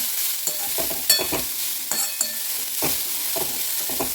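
Flat beans (avarakkai) being sautéed in a pan, a close, continuous crackling sizzle broken by repeated scraping stirs and light clinks of a spoon against the metal, with no voices.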